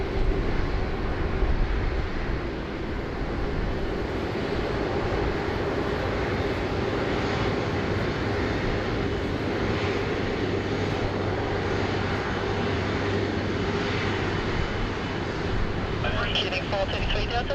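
Airliner jet engines roar steadily at Sydney Airport, loud and continuous throughout, with a brief higher-pitched rise near the end.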